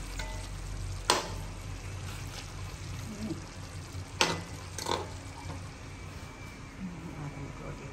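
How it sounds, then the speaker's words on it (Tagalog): Malunggay leaves and bitter melon being stirred in a cooking pot, a faint soft sizzle with a few sharp utensil clanks against the pot, quiet overall with low background noise. "Hinalo ko na lang pati yung peppermelon dito."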